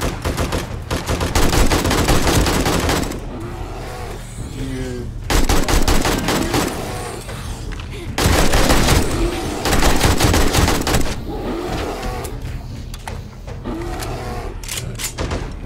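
Automatic AK rifle gunfire in the video game 7 Days To Die, loud bursts of rapid shots in several long stretches separated by brief lulls, with excited talk in between.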